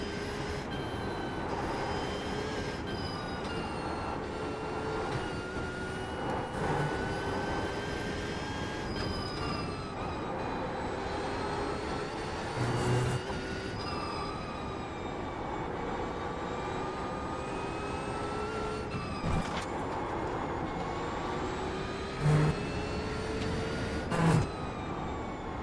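A racing game car engine on the Nürburgring 24h drones continuously, its pitch climbing and falling through gear changes, with brief bumps and thuds scattered throughout.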